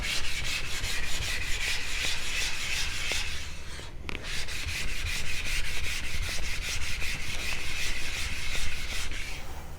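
A knife stroked repeatedly on a fine Nano Hone NL8 sharpening stone gives a close, steady, rapid rasping scrape that runs almost continuously, with one brief pause near the middle and no voices.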